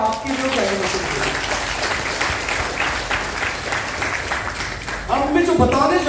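Loud, sustained applause from an audience at a Hindi talk on Kangen water, a dense steady clatter of clapping lasting several seconds, with a voice rising over it near the end.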